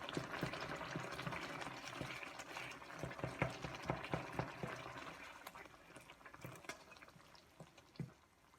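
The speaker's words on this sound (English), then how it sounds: "Right, you've got your mince cooking away" Mince and tomato simmering under a lid in a pot, a soft continuous bubbling with small irregular pops and plops, fairly quiet and close.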